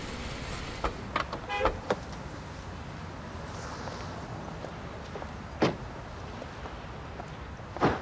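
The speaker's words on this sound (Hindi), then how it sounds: "यहाँ तो बहुत ज्यादा ट्रैफिक है" Heavy road traffic drones steadily with a constant rumble, broken by several short car horn toots near the start and two louder honks later, all close by.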